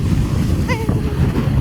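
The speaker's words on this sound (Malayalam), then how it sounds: "പക്ഷെ ഭയങ്കര കാറ്റാ" Strong wind blows across a hilltop campsite near a pine forest on the Elappara–Kuttikkanam route, a steady low buffeting rumble on the microphone with a brief faint tonal sound partway through.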